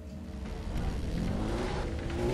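A car in Far Cry 3 accelerating as it drives, its engine drone steady and loud with a rising whine over about two seconds, no talk over it.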